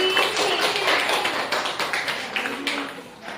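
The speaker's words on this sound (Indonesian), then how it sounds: "beri aplaus lagi" A classroom full of students applauds, a burst of quick hand claps near the listener that gradually thins and fades toward the end.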